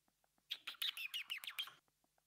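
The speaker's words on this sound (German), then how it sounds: "Die Vögel pfeifen hier die ganze Zeit." Bright, rapid bird chirps and tweets from the Minecraft modpack All The Mods 3 Remix cluster into a lively burst of about a second, with a few faint isolated chirps before and after.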